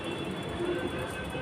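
Rumbling, steady rail noise of a moving metro train heard from inside the carriage, close and continuous with no talk.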